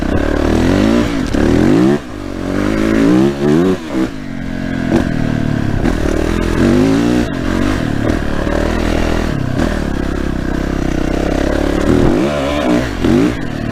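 A Yamaha 450YZF dirt bike climbs a rocky trail, its engine revving up and down in loud surges with clattering and scraping from the terrain, close and continuous.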